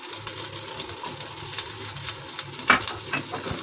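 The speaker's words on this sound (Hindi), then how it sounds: "ऑयल गरम हो चुका है। अब मैं इसमें ये मटर डाल दूंगी" Green peas tipped into hot oil in a saucepan sizzle steadily, with a continuous frying hiss and a sharper splash as they land; no voice is heard.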